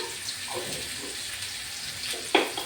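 Chicken pieces seasoned with salt and turmeric fry in a pan while being stirred, producing a soft, continuous sizzling hiss with a sharp utensil clink near the end, fairly faint overall.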